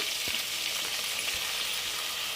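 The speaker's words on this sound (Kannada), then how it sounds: "ಸ್ವಲ್ಪ ನೀರಿನ ಅಂಶ ಎಲ್ಲ ಹೋಗಬೇಕು ಮೆಂತ್ಯ ಸೊಪ್ಪಲ್ಲಿ, ಅಲ್ಲಿವರೆಗೂ ಫ್ರೈ ಮಾಡ್ಕೊಳ್ಳಿ" Fenugreek leaves fry in hot oil with a dense, steady sizzle and a few soft stirring knocks, close up, with no talking.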